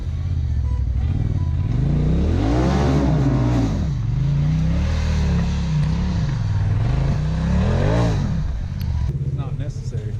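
ATV engine revving loudly and continuously on a wet, muddy trail at an off-road park, pitch rising and falling as it accelerates and slips through the slick ground, with a person talking over it.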